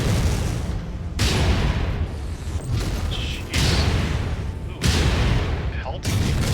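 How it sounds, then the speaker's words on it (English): Incoming missiles impact around a mech in MechWarrior 5 Mercenaries, a series of loud booming explosions arriving in separate bursts about every second or so, with rumbling mechanical noise between hits. "Incoming missile."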